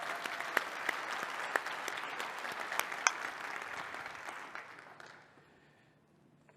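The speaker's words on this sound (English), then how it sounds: "So I think we should all give her a big round of applause for Mary Larkin." Conference audience gives a round of applause, a fairly distant, moderate clatter of clapping with a few sharper claps that fades out into near silence after about five seconds.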